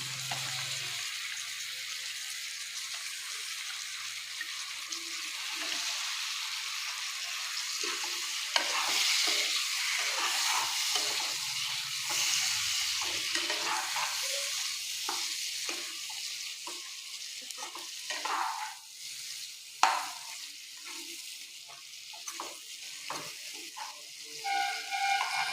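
Singhi fish sizzling and frying in a pan, a steady hiss of hot oil with intermittent stirring and scraping clatter throughout, close and moderately loud, with no voices.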